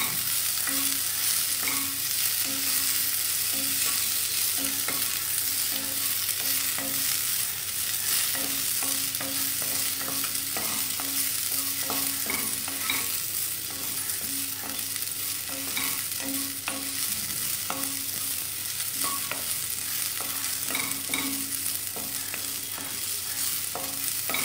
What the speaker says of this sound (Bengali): আর একটু ভাজলেই হয়ে যাবে ফুলকপি ভাজা।